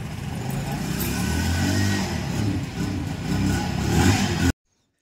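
A motorbike engine, just brought to life after a push start, runs and revs up close and loud, the revs rising and falling in surges before cutting off abruptly.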